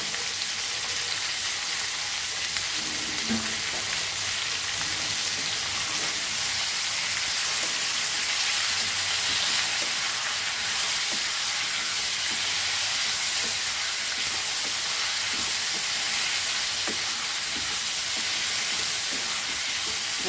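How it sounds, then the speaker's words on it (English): Curry leaves, onion, tomatoes and ginger garlic paste frying in a pan for a Goan aloo gobi curry, giving a steady, close sizzle and hiss with occasional soft stirring scrapes. "And fry this nicely till the tomatoes are nicely soft and onions are also nicely cooked."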